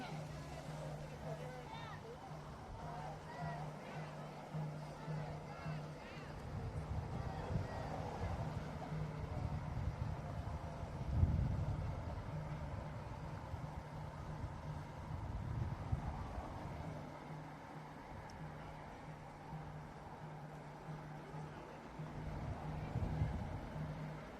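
Wind buffets the microphone outdoors at a street protest, a continuous low rumbling roar that swells in gusts, with people talking faintly in the background.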